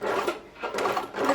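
Domestic sewing machine running a zigzag stitch, close-up bursts of rapid mechanical whirring in three short runs separated by brief pauses.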